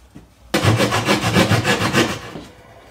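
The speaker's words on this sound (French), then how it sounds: "On appelle ça une scie à guichet. Ça permet de venir découper pour venir à fleur." A jab saw rasps through wood in quick back-and-forth strokes while fitting roof insulation, about a dozen rhythmic cuts close up after a brief quiet start.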